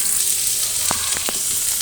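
Ridge gourd fries in a pan with a steady bright sizzle, close and even throughout, broken by a few quick clicks of stirring.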